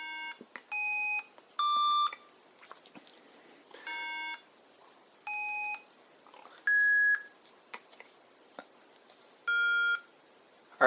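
Electronic sound generator from a Cyber City circuit kit, sounding as a sequence of about eight short, bright, synthetic tones at varying pitches, spaced roughly a second apart with faint clicks between them.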